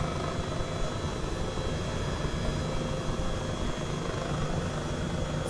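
Airbus H135 helicopter in the flight simulator MSFS 2020, a steady, loud rotor and turbine drone filling the whole stretch without pause, close and unbroken, with no talk over it.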